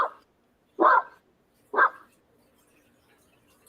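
A man imitates a dog with two short, loud barking yelps about a second apart, close to the mic against near silence.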